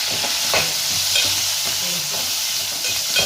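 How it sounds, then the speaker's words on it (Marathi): Tomatoes frying in oil with browned onions for a pea and potato curry, a steady close hiss of sizzling with periodic scrapes and knocks of a spoon stirring the pan. "आता टमाटर टाकून घेऊ"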